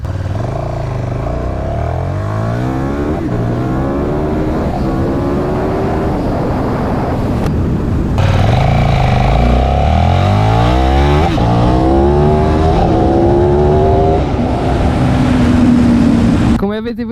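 A KTM 1290 Super Duke R motorcycle accelerating hard in sport mode, its engine revving up through several gears with rising pitch and brief drops at each shift, loud and close throughout.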